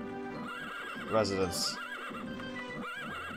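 A horse in the game Daggerfall gives a loud whinny over steady game ambience and hoofbeats, while a person speaks over it.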